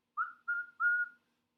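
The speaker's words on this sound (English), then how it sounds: "This has a whistle." An emergency whistle built into a daypack, blown three times in quick succession as short, shrill, clear blasts, the last slightly longer, with no other sound around them.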